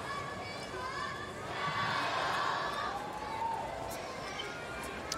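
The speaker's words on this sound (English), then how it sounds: "Crowd in good voice here in the sunshine of grandstand." Tennis crowd in the sunny grandstand at the US Open, a steady murmur of chatter and cheering that swells briefly in the middle, continuous and moderately distant.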